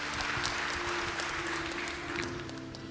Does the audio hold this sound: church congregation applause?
yes